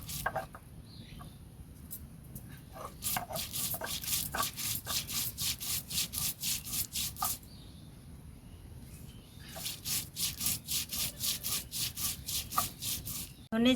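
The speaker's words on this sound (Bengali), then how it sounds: "ধনে জিরে শুকনো লঙ্কা একই সাথে বেটে নেব।" Coriander, cumin and dried chili ground together on a grinding stone, heard as rhythmic back-and-forth scraping strokes in two long bursts with a pause between, close and moderately loud, faint birds in the background.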